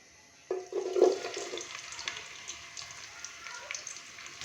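Finely chopped onion hits hot cooking oil in a pot with a sudden burst of sizzling, which settles into a softer, steady frying hiss that fades gradually.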